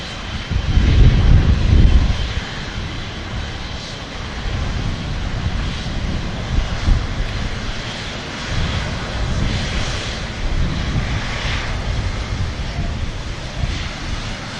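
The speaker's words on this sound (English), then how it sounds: "Rolling start from the Cathay Pacific." A Cathay Pacific extended-range airliner bound for Hong Kong makes a rolling-start takeoff at an airport, its engines a loud, sustained roar that swells early and then holds steady, with wind buffeting the microphone.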